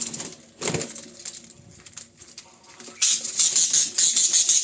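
A budgerigar chick flutters and scrabbles as it is picked up: a sharp burst of wing flapping early on, softer rustling, then a run of shrill, close chirps and squawks near the end.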